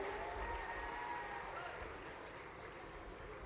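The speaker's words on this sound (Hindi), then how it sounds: "अभिनंदन करें गजेंद्र सिंह जी का जोरदार तालियां बजाकर के।" A crowd at a public event with the Madhya Pradesh chief minister in Khargone applauds a member of parliament. The clapping sounds faint and washed out under a low rumble and a steady hum.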